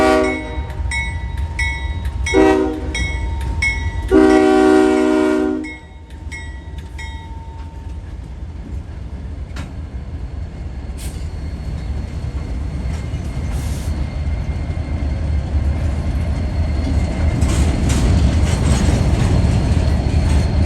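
Intermodal freight train led by a CSX ES40DC and a Union Pacific SD70AH, horn chords sounding loudly in several blasts before the steady rumble and rolling clatter of the passing cars.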